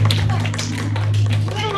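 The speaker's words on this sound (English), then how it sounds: "Give everybody a round of applause up here," Church congregation clapping, a short, busy burst of close handclaps over a steady low hum, continuing evenly for under two seconds.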